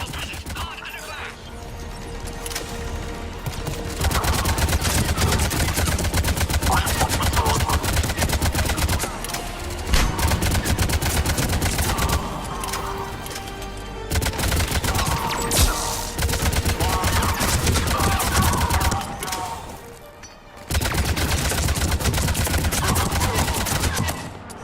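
Sustained gunfire from a Mass Effect 3 firefight, loud and dense bursts of shots running almost continuously with a few brief lulls, layered over game music and effects.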